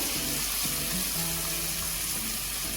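Steady broadband hiss of water hitting paneer frying in a hot pan, sizzling continuously at close range with faint low clatter underneath, no talking.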